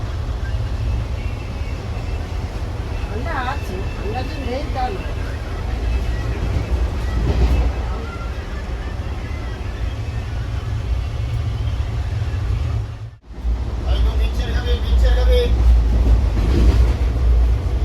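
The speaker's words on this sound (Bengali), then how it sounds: "এই ট্রেনটা তো যাবে অনেক দূর" A moving train gives a continuous loud low rumble and rattle that runs the whole way through. People talk over it, and the sound cuts out briefly near the end before the rumble returns.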